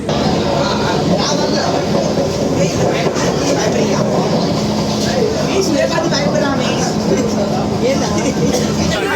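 A Vande Bharat semi-high-speed express train between Madurai and Bangalore rumbles along steadily with a constant rattle and hum of the carriage, loud and continuous, with talk heard underneath.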